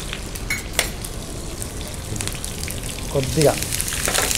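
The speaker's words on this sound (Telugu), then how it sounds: "చిట్టపట్టలాడితే వేగిపోయినట్టు" Garlic, curry leaves and green chillies crackle and sizzle in hot oil for a tomato chicken curry, a steady fry with a stirring clatter near the end, while a voice briefly speaks over it.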